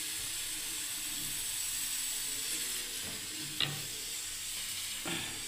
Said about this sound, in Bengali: এবার আমি তেল দিয়ে দিচ্ছি বন্ধুরা কড়াইয়ে